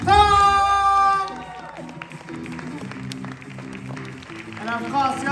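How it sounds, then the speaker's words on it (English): A comedy show audience claps and cheers after a host calls for noise, loud at first, then settling into steadier applause with a voice speaking over it. "Get the applause going"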